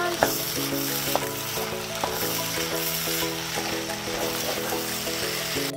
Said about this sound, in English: Y'all hear that frying?